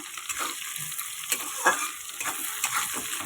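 Potatoes frying with onion and capsicum in a pan, a steady close sizzle with stirring scrapes and a few louder clatters of the spoon, no voices.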